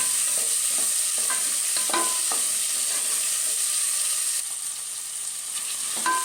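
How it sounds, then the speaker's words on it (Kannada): Onion, peas and tomato fry in a tempering for roasted-rice uppittu, a continuous close sizzle broken by repeated spatula stirs and scrapes against the pan, with no talking. "ಒಗ್ಗರಣೆಗೆ ಈರುಳ್ಳಿ ಬಟಾಣಿ ಟೊಮೊಟೊ ಎಲ್ಲ ಹಾಕಿದ್ದೆ ಈಗ ಅದು ಫ್ರೈ ಆಗ್ತಾ ಇದೆ"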